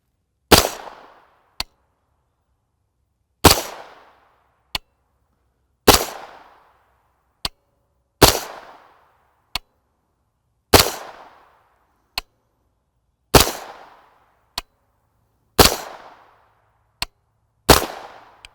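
A 9mm pistol-caliber carbine fitted with a Yankee Hill single-port muzzle brake fires Igman 124-grain FMJ rounds. There are about eight loud, evenly spaced shots, each with a short echoing tail, and sharp metallic clinks fall between them.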